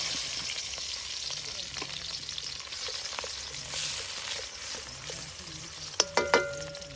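Ginger and garlic fry in hot coconut oil in a heated pan for a Kerala-style prawn roast, giving a steady close sizzle with faint stirring scrapes and a few sharp clinks near the end.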